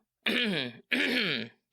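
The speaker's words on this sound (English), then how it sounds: "Now it's time to clear your throat." Two harsh, gravelly throat-clearing sounds in quick succession, close and fairly loud, with silence around them.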